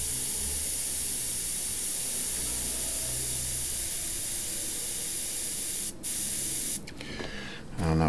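An airbrush sprays paint in a long, continuous close hiss, which breaks off briefly near the end before some clicks and handling sounds.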